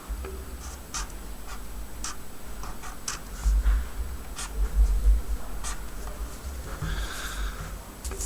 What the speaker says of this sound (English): And on this I'm going to write